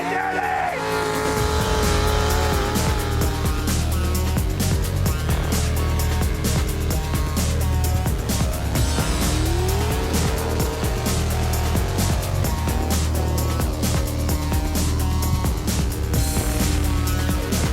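A tractor pull at a hot rod show: a loud, continuous engine roar under strain with rising and falling pitch as the machine drags a heavy weight, dense and close throughout, with voices faintly mixed in.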